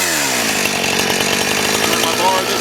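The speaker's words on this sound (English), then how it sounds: "I'm going to do that also with my chainsaw" A chainsaw rips small boards from a piece of wood, its engine droning loud and steady at close range throughout, with a rough cutting rasp.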